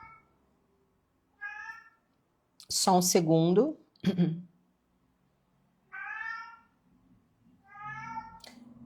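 A house cat meows repeatedly, with several distinct calls spread apart, close to the microphone, while someone speaks briefly between them.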